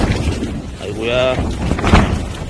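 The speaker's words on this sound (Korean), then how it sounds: "오 바람." Strong wind gusting across a backpacking tent site on a mountain near Jirisan, a rough, swelling whoosh that sits close to the microphone, while a person speaks briefly over it.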